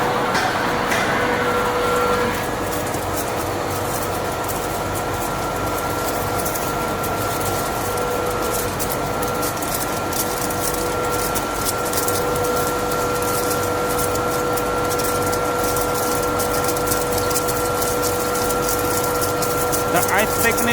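Flake ice machine rated at 10 tons per day running with a loud, steady mechanical hum and whine that holds unbroken throughout.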